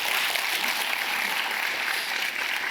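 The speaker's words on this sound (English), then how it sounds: "The Army Band is somewhere playing around here. Let's give them a round of applause." Steady applause from a ceremony audience honoring the Army Band, a dense, even wash of clapping that holds at a constant level throughout.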